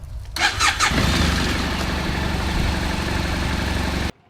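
A BMW F800GS motorcycle with its stock exhaust cranks with a brief starter whir, catches, and settles into a steady, even idle, close and loud, before cutting off abruptly.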